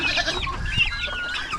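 Chickens and chicks clucking and peeping in a farm pen where turkeys are also kept, several high chirping calls overlapping close by, steady and moderately loud.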